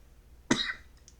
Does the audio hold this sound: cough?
yes